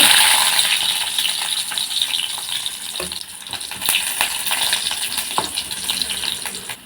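Garlic cloves frying in a little oil in a pan while making sundakkai chutney, a steady close sizzle with scattered crackles and pops that eases slightly partway through.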